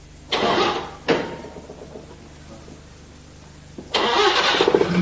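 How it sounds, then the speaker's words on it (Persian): A car engine cranks in two short bursts, falls quiet, then starts on a third try and settles into a close, loud running idle with no talk. "استارت بزن روشن شد."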